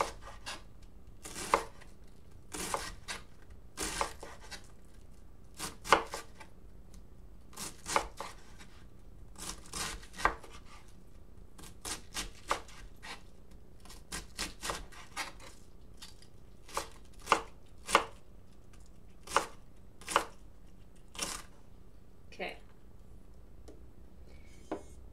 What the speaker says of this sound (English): very carefully kind of cut it into matchsticks